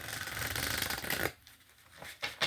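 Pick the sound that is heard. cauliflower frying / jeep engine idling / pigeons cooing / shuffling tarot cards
shuffling tarot cards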